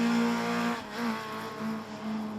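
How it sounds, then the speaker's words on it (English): Rally car sliding sideways through a corner at an Oulton Park circuit rally, engine note revving and dropping between gear changes, loud and close, with no talk over it. "by Joe Cunningham and Mark Fowler, showing that maybe sideways is a fast way to drive a rally car"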